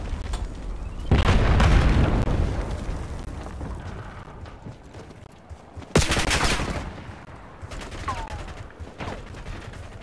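A frag grenade blast booms in the video game Call of Duty: Black Ops, followed by a second heavy explosion and rolling gunfire. The loud rumbling bursts are separated by quieter stretches of scattered shots, with a voice briefly present.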